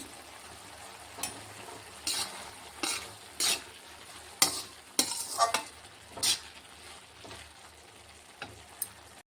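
A thickening colostrum milk mixture is cooked down for sweet laddus while being stirred, giving faint simmering under a series of distinct spoon-scraping strokes against the pan. The strokes are close and spaced out, and no one speaks.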